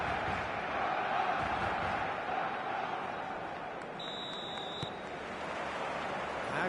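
A stadium crowd in a football video game roars steadily as a broad, continuous wash of massed voices, with a brief electronic beep partway through.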